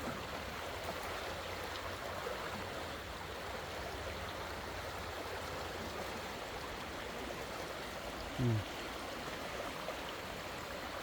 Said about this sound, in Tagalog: Lakas ang agos ng tubig.